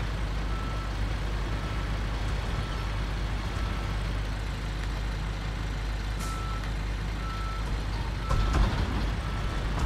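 Truck reversing in the Construction Simulator game, a steady backup beeper repeating over a loud, continuous engine rumble, with a brief hiss near the end.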